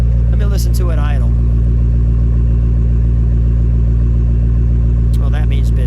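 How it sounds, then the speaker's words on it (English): A 2007 Ford Shelby Mustang GT500 Super Snake idles with a steady, loud, deep rumble that runs throughout, while people talk briefly near the start and again near the end. "Let me listen to it idle."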